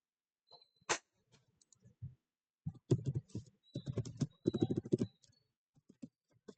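Someone types on a computer keyboard in short, close bursts of clicks with brief pauses between them, fairly quiet with no other sound.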